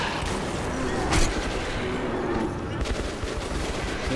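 Gunfire in the video game Metro 2033 rattles out in dense, noisy bursts with a sharp crack near the middle. Game sounds continue underneath.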